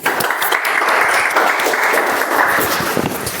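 Audience at a Toastmasters club meeting applauding after an icebreaker speech, steady dense clapping from a roomful of people throughout, fairly loud and close.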